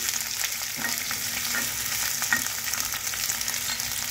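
Brinjal fries in a pan for a red spinach curry, a continuous close sizzle with faint stirring scrapes and small pops, no voices over it.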